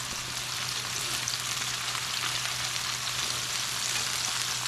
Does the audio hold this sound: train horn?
no